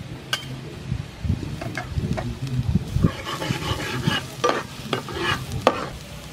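Chopped garlic dropped into hot soybean oil in a pan for a clam stir fry, with close stirring scrapes and a soft crackling sizzle that builds after the first few seconds, no talking.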